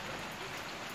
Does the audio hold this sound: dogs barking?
no